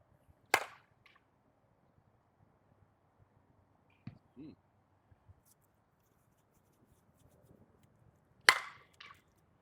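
A Miken Hot Sauce USSSA softball bat strikes a ball, giving two sharp, loud cracks about eight seconds apart, with faint quieter thuds in between.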